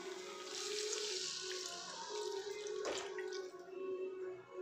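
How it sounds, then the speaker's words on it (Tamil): Water is poured from a mixer jar into a pan of cauliflower pepper masala, a steady splashing trickle that gurgles near and clear for a few seconds. "இப்போ மிக்சியிலேயே கொஞ்சம் தண்ணி ஊற்றி அதை நம்ம உள்ளே கூட சேர்த்திக்கலாங்க."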